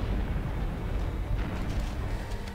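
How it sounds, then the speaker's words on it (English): Explosions in the Halo: Combat Evolved video game, heard as a dense, continuous low rumbling roar with faint distant bursts layered through it. "look at all these explosions"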